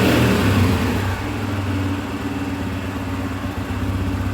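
A 2016 Honda CRF150F motorcycle engine revs up loudly right after an oil change, then settles into a steady lower idle, heard close up and alone.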